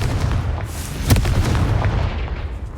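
A Confringo spell blast in the Hogwarts Legacy video game erupts as a loud, rumbling explosive boom with heavy low-end roar and crackle, sustained across the whole moment.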